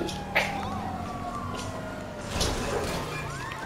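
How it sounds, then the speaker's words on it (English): Police cruiser sirens wail together in a Grand Theft Auto chase, several overlapping rising and falling tones at moderate distance, with a crash-like thump partway through. "Police cruisers."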